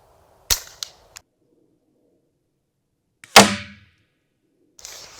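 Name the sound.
Ruger 10/22 rifle firing Aguila Colibri primer-only ammo, unsuppressed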